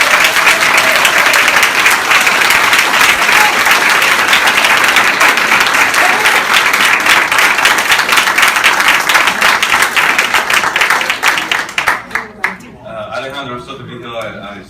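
Audience applause at a Berkeley Public Library board of trustees meeting, a dense, loud, even round of clapping that holds steady for about twelve seconds. It then tapers into scattered claps, with a voice beginning to speak as it ends.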